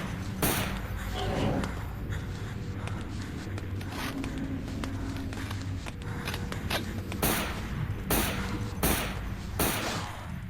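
Gunfire in the video game Comatose: several sharp, loud shots ring out at irregular intervals over a dense, busy game soundscape, with a cluster of spaced bursts toward the end.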